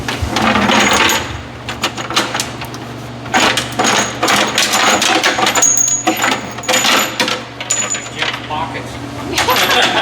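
Metal washers for bolting down the engine of a 1971 Ski-Doo Olympic snowmobile jangle and clink while being handled, a loud, continuous close-up metallic rattle with brief pauses and faint voices in the background.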